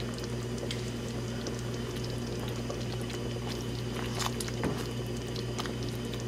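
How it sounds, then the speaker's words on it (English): Creamy poblano shrimp sauce stirred in a pan on the stove, a steady close bubbling sizzle with soft wet squishes and a faint clink of the utensil, no talking. "So I'm gonna go ahead and stir this real quick."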